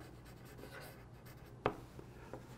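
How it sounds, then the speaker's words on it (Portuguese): Handwriting with a brush pen on paper, a soft continuous scratchy rustle with one sharper tap midway and a couple of fainter strokes after, close and quiet with no talk. "Vamos lá, Juju, vou escrever aqui."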